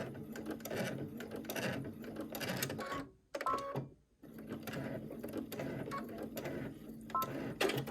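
A home sewing machine stitches fabric in quick mechanical bursts, the whirring and clatter pausing briefly about midway before running on steadily, fairly quiet and close, with no talking.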